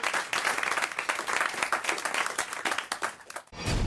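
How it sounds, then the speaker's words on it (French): A radio studio audience applauds, a dense burst of clapping that runs steadily for about three and a half seconds and then stops abruptly. "on vous applaudit, on vous embrasse"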